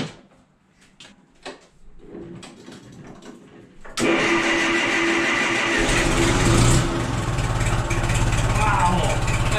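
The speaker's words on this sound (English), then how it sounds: "I'm excited to hear this thing fire up now. We'll see what it sounds like with a stinking muffler on it." Cheap forklift engine with a new muffler cranking and firing up after a few quiet clicks and rustles, then settling into a steady, loud idle rumble close by.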